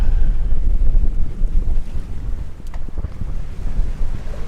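Gusty wind buffets the microphone aboard a sailing catamaran at sea with a little genoa up, a loud rumbling roar rising and easing with faint water wash beneath.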